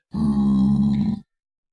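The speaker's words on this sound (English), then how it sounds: "they sound exactly like the zombie pigmen" A single drawn-out guttural grunt from a goblin-like creature in a Minecraft mod, loud and close, lasting about a second with a rough, low pig-like growl resembling a zombie pigman.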